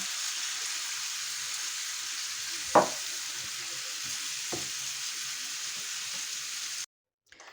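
Minced tomato sauce stewing in a pan for lasagna gives a steady, close sizzle with a couple of sharp clicks from stirring, then stops abruptly near the end.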